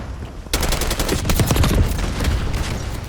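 Automatic weapons rattle in Black Ops 6 multiplayer, starting abruptly after a brief lull into loud, rapid bursts of close gunfire. The sharp shots continue steadily for several seconds, mostly without talk.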